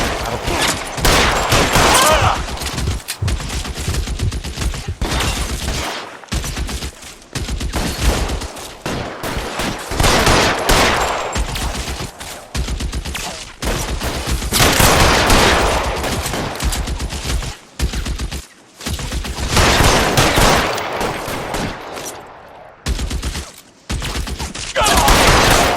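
Sustained heavy gunfire from a 1940s Los Angeles shootout in L.A. Noire, dense automatic bursts and single shots crowding together, loud and close, with brief gaps of near silence between volleys.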